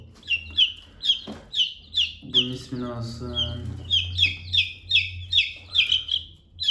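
Chickens clucking in a steady run of short, sharp calls, with someone speaking briefly midway.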